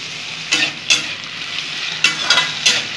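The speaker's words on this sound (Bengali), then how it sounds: "বন্ধুরা, আলুগুলো একটু ভেজে নেবো," Thin-cut potatoes fry in a pan for spicy dim aloo bhurji, a steady sizzle broken by several sharp scraping stirs spaced irregularly, close and fairly loud with no talking.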